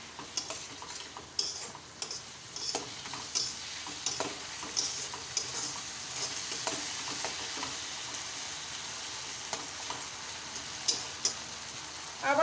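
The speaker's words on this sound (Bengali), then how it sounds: "কিছুক্ষণ ধরে আবারও কষিয়ে নেব।" Spice paste sautéing in a pan for a tangra fish curry, a quiet steady sizzle with repeated scrapes and soft clicks of stirring throughout; no talk.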